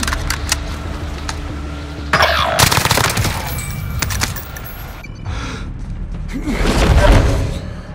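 Gunfire in Call of Duty: Modern Warfare, with close bursts of automatic weapon fire, clattering bangs and thuds over a busy game soundscape, growing louder toward the end.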